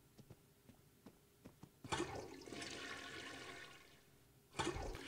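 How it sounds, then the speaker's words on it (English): A toilet in the video game Ark flushes twice, each time with a sudden rushing gush of water followed by a sustained swirling drain. Faint clicks come before the first flush, and the second flush starts abruptly near the end. "flush the toilet twice in a row"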